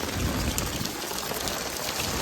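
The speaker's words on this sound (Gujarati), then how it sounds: "બહુ જ વરસાદ છે" Steady, dense monsoon rain in Keshod, Gujarat, hissing continuously with a low rumble underneath, loud and close, no voices.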